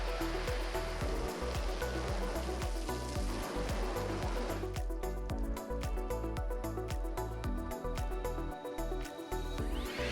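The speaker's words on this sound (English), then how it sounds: "any remaining water is effortlessly removed with the leaf blower at the end" Steady, loud broadband rush of a water hose spraying, shifting midway into a harsher, rattling blast of a leaf blower running continuously close by, drying a car after a ceramic coating.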